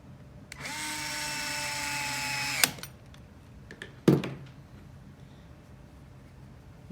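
An electric screwdriver whirs for about two seconds driving a screw into an AirBuddy, stops with a click, then a short second burst and clunk follow, close and fairly quiet.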